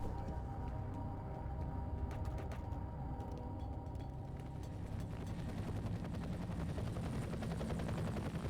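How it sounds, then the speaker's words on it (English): Enemy gunship helicopter in the shooter game F.E.A.R., a steady low rotor drone with mechanical rattling and scattered clicks, continuous and moderately loud throughout with no talk. "there's an enemy gunship sitting there at the moment"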